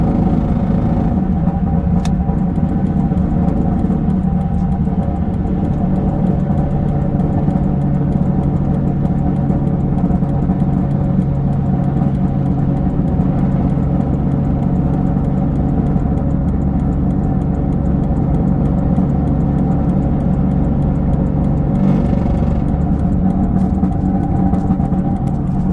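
A green V6 car with a five-speed manual and straight-piped exhaust holds a loud, steady, deep drone while driving, its raw rumble continuous throughout with no shifts or breaks.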